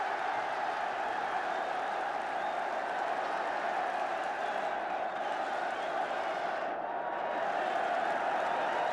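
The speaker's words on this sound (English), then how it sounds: "the turn of the United supporters to applaud as McQueen applauds the kicker" Manchester United supporters applaud at a football match against Southampton, a sustained wash of clapping mixed with crowd noise and a few whoops, dipping briefly before swelling again.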